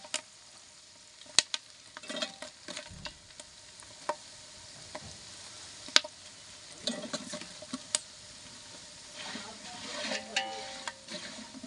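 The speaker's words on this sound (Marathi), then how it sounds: "हा सगळा खडा मसाला आता व्यवस्थित भाजायला त्याच्यामध्ये टाकायचा आहे" Whole spices dry roast in a pan for homemade Maharashtrian kala masala while a spoon scrapes and turns them. Sharp, irregular clicks and rattles come close and clear over light crackling, with no voices.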